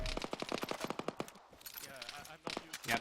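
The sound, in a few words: full-auto gunfire from the video game Arma 3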